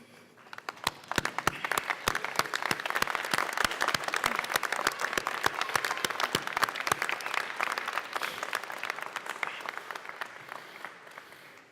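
Graduates at a 2018 commencement ceremony stand and applaud their families and supporters; the clapping starts sparse and quiet, then swells into a loud, dense, sustained ovation from a large crowd.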